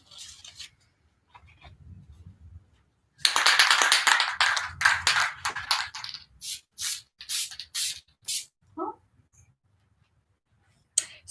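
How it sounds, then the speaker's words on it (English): Spray adhesive hisses out of a can at a printing studio, with a long continuous burst followed by a series of short, evenly spaced sprays and a few light taps, close and loud with no talking. "So this is where we're at with the spray adhesive, in case anybody was wondering."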